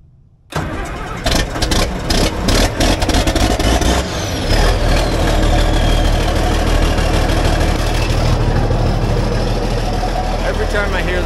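A John Deere excavator's diesel engine cold-starts after a moment of quiet, cranking briefly and catching loudly before settling into a steady, rumbling idle close to the microphone.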